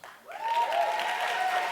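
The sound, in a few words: audience applause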